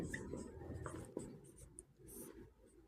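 Pen or pencil writing out math working on paper during a Class 10 lesson, a soft continuous scratching with small taps, close and quiet, with no talk over it.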